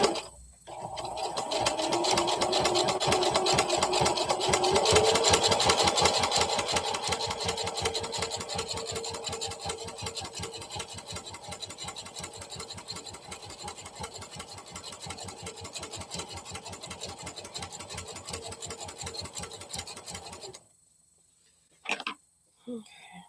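A sewing machine loaded with polyester thread stitches in one long, continuous run for about twenty seconds at a steady pace, then stops, followed by a couple of soft clicks.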